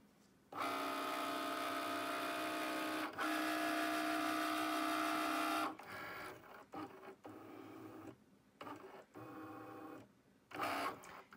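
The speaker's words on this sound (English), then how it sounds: "It reads the sensor so it knows right where to cut." A Cricut Maker cutting machine whirs steadily as its sensor reads registration marks, then breaks into short, stop-and-start motor bursts while cutting printed canning jar labels, close and fairly quiet with no talking.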